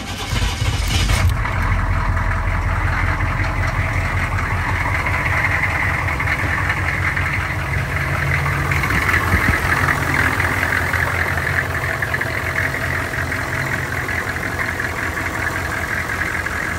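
A 1984 Chevrolet Suburban with a 6.5 Detroit Diesel idles steadily after a cold start, a loud, continuous low rumble with rough knocking texture, close by and alone throughout.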